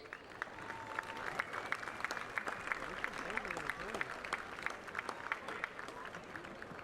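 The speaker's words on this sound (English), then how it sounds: "Let's give him a round of applause." Audience applause for Coach Richard R. Flores at an all-star game stadium, a steady patter of scattered claps somewhat distant, with crowd murmur and voices over it throughout.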